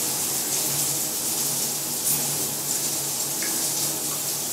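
Shower water runs steadily in a continuous hiss and spray, with small splashing fluctuations, close and moderately loud with no voices.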